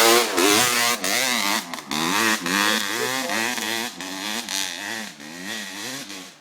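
A dirt-trail motorcycle engine revs repeatedly, its pitch rising and falling in quick surges with short gaps between throttle bursts, loud and close throughout.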